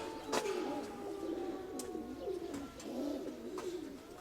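Pigeons and young squabs coo repeatedly in soft, rolling murmurs, with a few sharp clicks and flutters nearby; no talking.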